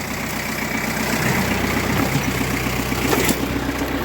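A Kubota B3000 compact tractor's engine idles steadily nearby with a low rhythmic chug, and a faint clatter rises briefly near the end.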